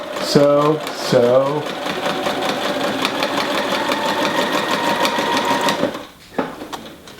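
A sewing machine runs steadily, stitching quilt binding, after a short burst of speech at the start; the even whir carries on for about five seconds, then stops, followed by a few faint clicks.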